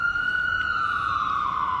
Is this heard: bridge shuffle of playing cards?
no